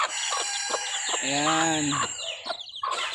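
A mother hen clucks and trills nearby, with a drawn-out harmonic call in the middle; a person says a brief word.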